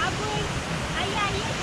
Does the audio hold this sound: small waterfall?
yes